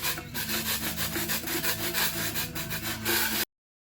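A spatula scrapes old kiln wash off a second-hand kiln shelf in a pottery studio, giving a steady, close rasping scrape with rhythmic strokes for about three and a half seconds before it stops.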